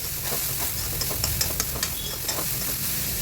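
Capsicum and mixed vegetables frying in a pan, a steady close sizzle and hiss with light scraping clicks of stirring scattered throughout, no voices.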